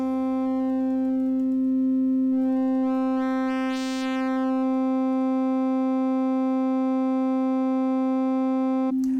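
A steady modular synth LFO tone with strong harmonics drones throughout, its timbre slowly sweeping brighter and back, ending with a short click.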